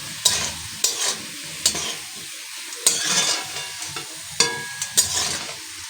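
Pabda fish frying in hot oil, with a steady sizzle broken by repeated sharp scrapes and clinks as the pieces are turned in the pan, close and fairly loud, no voices.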